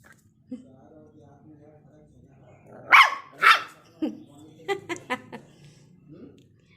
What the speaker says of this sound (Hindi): ये ऐसे भौंकती नहीं है, लेकिन कुछ देख लेती है तो ज़रूर भौंकती है।